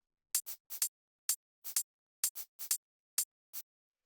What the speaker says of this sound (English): It's a hi-hat and a shaker, but they sound like this.